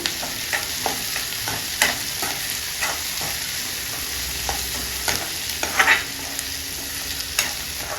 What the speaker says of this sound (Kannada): ಈಗ ಇದಕ್ಕೆ ಒಂದು ಸ್ವಲ್ಪ ಅರಿಶಿನ ಪುಡಿ ಹಾಕ್ತಾ ಇದ್ದೀನಿ ನಾನು ಸ್ವಲ್ಪ ಅರಿಶಿನ ಪುಡಿ ಕಾಲು ಸ್ಪೂನು ಚೆನ್ನಾಗಿ ಮಿಕ್ಸ್ ಮಾಡಬೇಕು